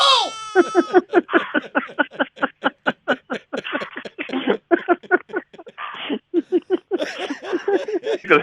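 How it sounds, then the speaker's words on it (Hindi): A baby cries loudly and close by in rapid, choppy sobbing bursts that keep repeating without letting up. "ये मेरा बच्चा रो रहा है"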